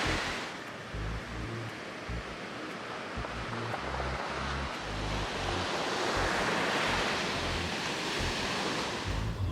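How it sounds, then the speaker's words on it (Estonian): Ocean waves breaking on the California coast as a broad, steady wash of surf with wind rumble, swelling slightly toward the end, no voices. "tulime korra mere äärde, kuna kui tulla Californiasse, siis peab merd ka nägema"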